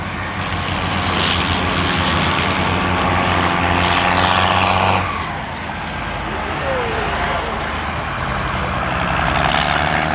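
CVRT tracked armoured vehicle powered by a modified E-Type Jaguar car engine, running at an arena show: a loud, close, continuous engine roar with track clatter that dips briefly midway, then builds again.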